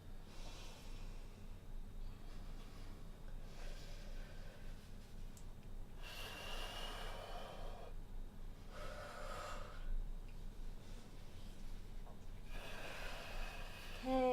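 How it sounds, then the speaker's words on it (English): Deep breathing during a kung fu exercise, several slow, forceful inhale and exhale bursts spaced a few seconds apart over quiet room tone. "Breathing deeply."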